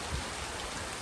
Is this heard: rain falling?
yes